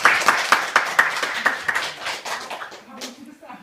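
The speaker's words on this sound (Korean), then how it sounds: "우리 박수 한번 하면서 환영합니다" A church congregation claps to welcome guests, a sparse burst of individual hand claps that thins out within a few seconds, with a voice speaking over it.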